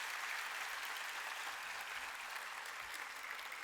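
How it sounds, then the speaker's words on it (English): Audience applause for students at a school annual day celebration, a steady, even wash of many hands clapping throughout, moderately distant and continuous with no talk. "Give a big round of applause to them"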